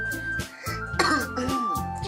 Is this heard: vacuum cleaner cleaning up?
no